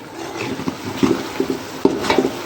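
Biryani ingredients frying at home are stirred with a ladle, giving rhythmic scraping and knocking strokes against the pot over a low, continuous sizzle.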